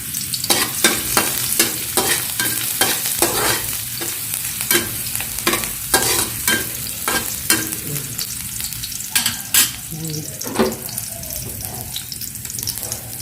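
Garlic frying in a pan while being stirred: a close, loud sizzle broken by repeated, irregular scrapes and clacks of a utensil against the pan, with no one talking.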